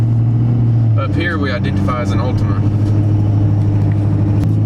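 Ford F250 Platinum with a 6.7 engine driving, its loud steady low rumble filling the cabin while someone talks over it.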